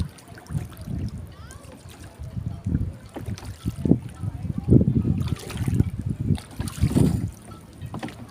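Rhythmic splashing and knocking of oars rowing a boat through water, repeating every second or so, close up with wind buffeting the microphone and some talking.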